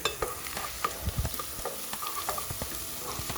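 Ginger and green chilies frying in a pan, with frequent sharp spoon scrapes and knocks over a light sizzle, close by and irregular in rhythm, no talking.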